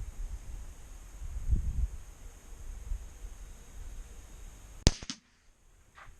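A Ruger LCP II .22LR pocket pistol fires a single sharp shot into ballistics gel outdoors, a brief crack from a moderate distance over wind noise, followed by quiet.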